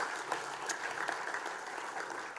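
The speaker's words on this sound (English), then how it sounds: "A huge round of applause for those young people that we've had listen to tonight." Steady audience applause fills the room at a sports awards night, a dense, even wash of clapping at moderate distance with no voices over it.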